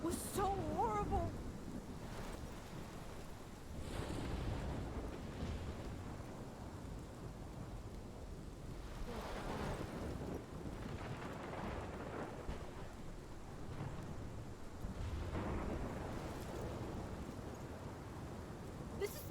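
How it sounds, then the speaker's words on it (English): Rumbling thunder rolls over steady rain and wind in a stormy scene from the video game Life is Strange, with a loud crack at the start and repeated swelling booms through a continuous wash of noise. "This is my storm."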